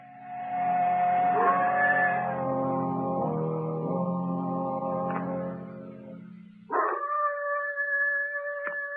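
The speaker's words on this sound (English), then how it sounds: "A pack of hounds is trailing me. You can probably hear them." Several hounds baying and howling together in long, overlapping mournful tones, with a fresh howl rising sharply near the end.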